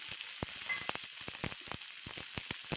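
Green chillies and sesame seeds frying in hot oil, a steady bright sizzle with frequent sharp pops and crackles close up, no voices.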